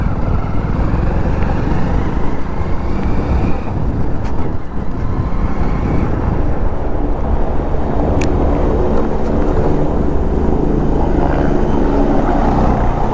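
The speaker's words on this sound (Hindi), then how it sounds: "ये रहा हेलीकॉप्टर, ये उड़ गया उड़ गया उड़ गया।" A helicopter lifts off toward Kedarnath, its rotor and engine roar loud and constant throughout, close by with a dense, steady thrum and no talking.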